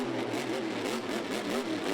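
A Monster Jam monster truck engine refiring during a 2012 freestyle run at M&T Bank Stadium in Baltimore, giving a steady close-up rumbling idle with a rising whir and no pauses.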